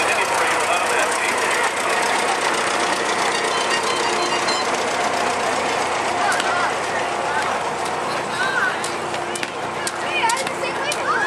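A 1944 Massey tractor rolls through a small-town anniversary parade, its old engine chugging in a continuous rumble alongside crowd noise and nearby voices talking over it.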